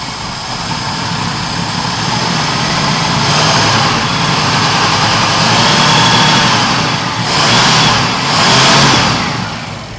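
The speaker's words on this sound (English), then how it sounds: "Let's rev it up." An abandoned Ford Econoline van engine, running very rich on bad gas, roars loudly up close and is revved in swelling surges, with no talk over it.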